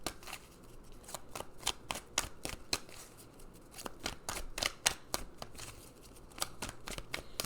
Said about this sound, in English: let's pull some more cards and see what other message Spirit has for us today